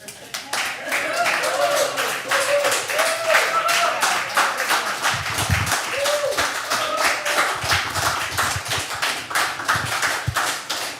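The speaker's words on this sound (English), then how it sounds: "You got a good applause at the end." A poetry night audience claps in a dense, steady burst of applause that swells and then tapers off, with some voices mixed in.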